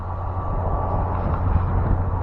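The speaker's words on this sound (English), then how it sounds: "And it's too windy." Low rumbling wind buffets the microphone outdoors beside an e-bike in a steady roar for a couple of seconds, with no voices.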